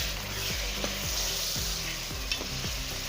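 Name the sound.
chicken frying in a pan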